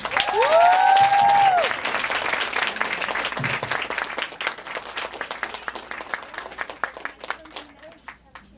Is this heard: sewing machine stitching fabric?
no